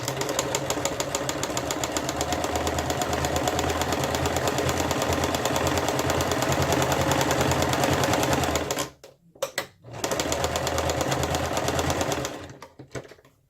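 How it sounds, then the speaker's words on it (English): A sewing machine stitches through an art journal page, its needle chattering in a fast, even mechanical rhythm close by, pausing briefly twice near the end before resuming, with no talking over it. "that I'm going to just sew to the other side"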